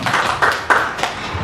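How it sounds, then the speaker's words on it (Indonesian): A handful of sharp, close handclaps burst out in quick succession from an audience at a teachers' positive-culture dissemination session, short and unevenly spaced rather than sustained applause. "Kasih tepuk tangan Bapak Ibu."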